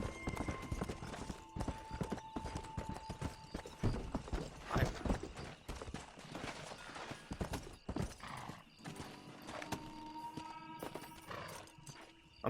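Rapid clip-clop of horse hooves runs continuously at a quick gallop in Red Dead Redemption, with an occasional whinny and faint game sounds layered underneath.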